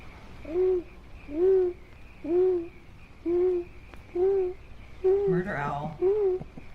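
An owl in a film hoots seven times at an even, slow rhythm, close and clear, with a brief burst of other sound near the end.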